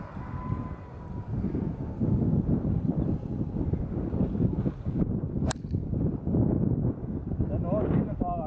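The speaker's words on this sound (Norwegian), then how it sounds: "Masse vind, altså." Strong gusty wind on a golf course buffets the microphone in heavy, rumbling bursts throughout, with a few faint voices and a brief sharp click partway through.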